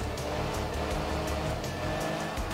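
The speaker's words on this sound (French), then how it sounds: "Elle passe fort quand même, la Mini" The Mini rally car in Art of Rally drives past with a steady, loud engine drone and tyre noise, continuous and close throughout.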